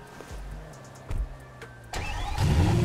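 Car engine in GTA 5 being restarted: a quiet engine hum, then a brief crank and a louder catch into a revving, rising engine note near the end.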